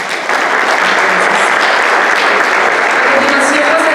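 Audience applause for a speaker at the close of a tourism talk at the American Society, a dense, loud, steady clapping from a crowd that fills the whole stretch without a break.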